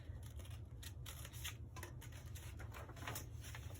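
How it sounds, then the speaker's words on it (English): Scissors snipping a small V notch into folded paper for a paper plate animal craft, a series of close crisp cuts over a steady low hum, no talking. "and cut just once a little V mark."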